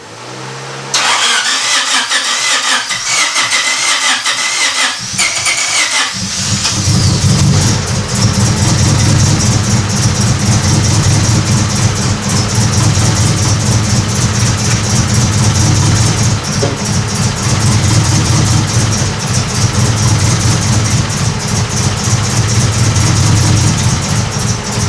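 A broken Honda Civic EK hatchback engine cranks briefly, catches and then runs loudly and continuously near the microphone, held at wide open throttle with a steady rough roar for the rest of the clip.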